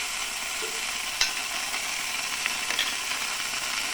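Spicy pasta sauce sautés in a pan over a lowered flame, a steady quiet sizzle broken by a few sharp clinks and scrapes of a spoon stirring.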